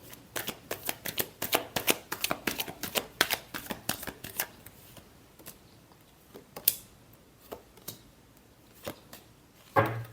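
Tarot cards being shuffled by hand, a rapid run of crisp riffling clicks for the first few seconds, then slower scattered card taps and snaps, close and alone with no talking.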